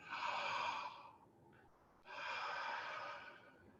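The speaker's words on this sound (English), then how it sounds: "Breathe in." Two long, deep breaths are drawn in through the nose, close up and soft, separated by a short quiet pause.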